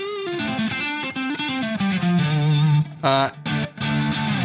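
A distorted electric guitar through a Marshall amp, with thick lower mids and low end breaking up, plays a busy, sustained blues-rock phrase with a few bright accents, loud and alone with no talking.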